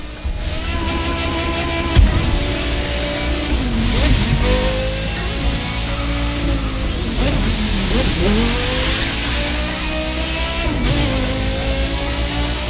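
A Porsche Carrera GT in the racing game The Crew 2, its engine revving loud and continuous, pitch climbing and falling through several gear changes over a steady roar.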